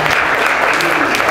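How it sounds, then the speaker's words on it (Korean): Warm applause from guests at a celebratory dinner, a dense, loud, steady wash of clapping filling the short moment. "뜨거운 박수 부탁드립니다."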